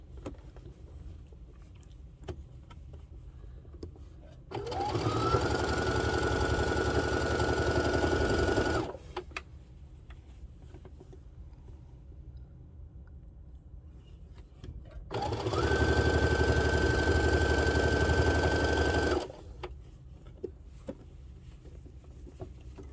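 A sewing machine stitches fabric for a spa headband in two steady, loud runs of about four seconds each, separated by a quiet pause, with no talking.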